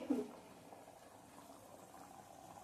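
Pigeon pea usal gravy boiling in a pot, a faint, steady bubbling simmer that holds at a low, even level throughout.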